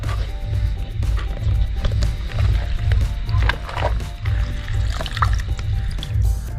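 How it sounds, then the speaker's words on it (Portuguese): Water splashes and trickles steadily over a sport air filter from a Honda Pop 110i motorcycle as it is rinsed and worked by hand, with soft knocks and sloshing throughout, close and fairly loud. "mexe pra lá e pra cá o filtro, dando água aqui"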